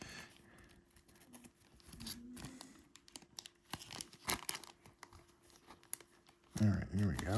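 A 1970s–80s Topps football card pack wrapper is cut and torn open up close, giving crinkly tearing and crumpling bursts with a louder rustle at the end.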